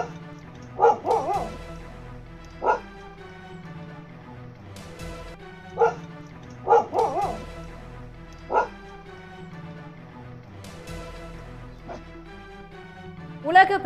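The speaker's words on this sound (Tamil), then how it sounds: "வளர்ப்பு நாய் யானையை பார்த்து குறைத்து அதனை விரட்டியது" Pet dog in Kerala barking at a wild elephant, sharp barks and yips repeating every second or two at close range, over a steady low background hum.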